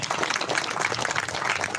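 Audience applause for Pak Faisal Basri at a people's movement gathering, a dense, steady clapping from a crowd held at an even level for a brief stretch.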